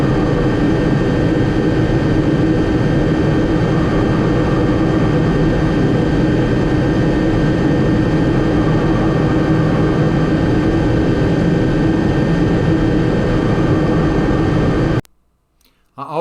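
Gyroplane engine droning loud and close while taxiing across a runway, a constant heavy roar that cuts off abruptly near the end.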